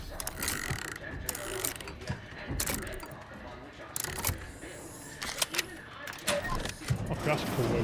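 A sci-fi unlocking mechanism in the video game The Outer Worlds 2 whirs and ratchets, with repeated clicking, clanking metallic parts and bursts of gear-like movement over a busy game soundscape across several seconds.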